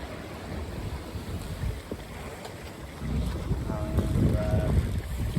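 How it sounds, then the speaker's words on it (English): During the Fastnet offshore race, a wave hits a sailboat with a muffled wash under steady wind buffeting on the microphone. The water noise swells louder in the latter half. "There's a wave there, guys."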